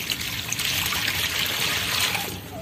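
Water poured into a container while tending an injured street dog, a steady close trickle that runs continuously for a couple of seconds with no talking.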